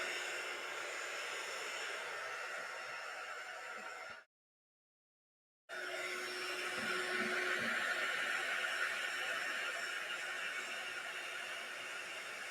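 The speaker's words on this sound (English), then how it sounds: "Get that heat gun all nice and hot." A heat gun blowing hot air to melt embossing ink on a stamped card, a steady airy whir that cuts out briefly and then resumes at the same level.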